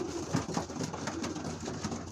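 Young pigeons coo softly while eating on the floor, their low repeated coos overlapping under a steady murmur of background noise.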